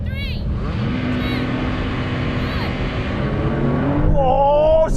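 Several Porsche cars launch in a video game drag race, their engines droning and rising together at steady high volume before a sharp gear-change rev near the end.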